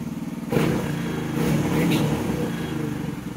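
Engine of a 2024 Honda TRX 250X quad revving up from a steady idle, the near, loud, throbbing motor swelling and holding before settling back, with a voice briefly heard in the background.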